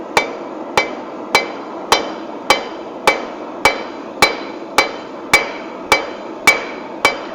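Blacksmith's hammer striking hot steel on an anvil while forging a leaf keychain with a reverse taper: thirteen sharp, ringing metallic blows at a steady, even rhythm, close and loud, with no talking.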